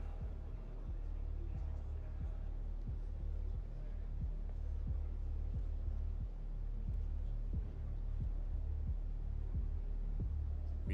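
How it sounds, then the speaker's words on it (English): Heartbeat-like pulsing music in an esports broadcast for a CROSSFIRE match: steady low thuds repeating roughly every half second under a constant droning hum, moderately quiet throughout. "Music almost sounds like a heartbeat."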